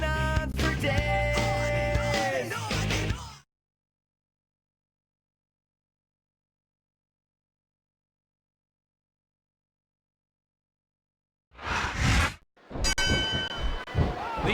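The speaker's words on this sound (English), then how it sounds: "The bell has rung." A wrestling ring bell from the PS2 game WWE SmackDown vs. Raw 2009 rings in a short, bright burst near the end. Loud game music comes before it, then a long silence, and more game audio follows.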